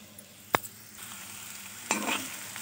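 Beans stirred in hot oil in a kadai give a low sizzle, with two sharp scrapes of the spoon against the pan, one early and one near the end.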